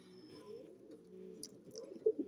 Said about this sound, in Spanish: Mire, ya están otra vez aquí los palomos